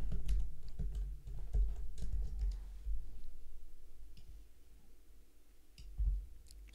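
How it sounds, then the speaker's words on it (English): Quick, light key clicks of someone typing on a computer keyboard, close by and fairly quiet, in short bursts that taper off. "I'm typing it in right now."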